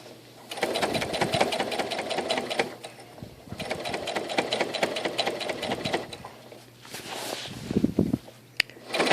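Sewing machine stitching around the curved underarm seam of an apron, a steady close whirring hum that runs in long bursts with brief pauses, ending in a few scattered clicks and bumps.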